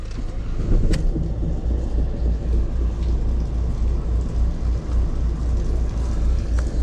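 A high-mileage car with about 346,000 km, brought in on a tow truck because it would not move, is started. A deep, steady engine rumble runs close and loud throughout.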